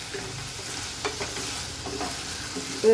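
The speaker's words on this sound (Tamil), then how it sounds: "சிம்மிலே வச்சு இது மாதிரி நல்லா வதக்கி விடுங்க" Potatoes sauté with onion and tomato over a low flame, giving a gentle continuous sizzle with a few soft stirring scrapes, close by and moderately quiet.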